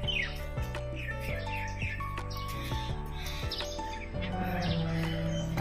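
Small birds chirp and tweet repeatedly from a tree, a lively chorus of short bright calls at moderate distance, with no talking.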